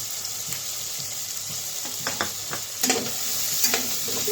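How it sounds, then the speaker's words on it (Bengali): Onion, tomato and capsicum fry in a pan, making a continuous sizzle broken by scraping, clattering stirs that grow louder toward the end. "ভাজা ভাজা করে নেব।"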